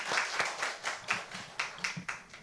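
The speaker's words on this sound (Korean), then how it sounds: "하나님께 영광의 박수 올려드리겠습니다." A church congregation at a Sunday morning service claps in rhythm, sharp evenly spaced claps about every quarter second, moderately close, with no talking over them.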